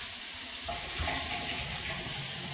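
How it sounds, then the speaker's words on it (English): Hot water runs steadily from a household tap in a Saint Aubyn (now Tralon Homes) house after being turned back on, a continuous close hiss and splash with no talking. "now the water's going again."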